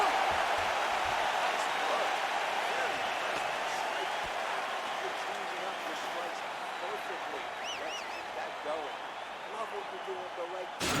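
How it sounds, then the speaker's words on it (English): Arena crowd in a UFC fighting video game applauds and cheers after a round, a steady wash of clapping and crowd noise under a commentator's voice, fading slightly over time. "So the crowd voicing its appreciation after that round."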